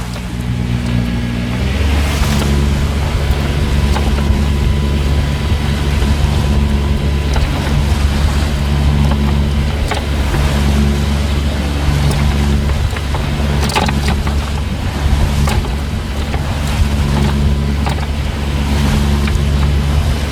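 A loud boat engine drones continuously and picks up revs early on, then holds a heavy, steady roar with wind and water noise mixed in throughout.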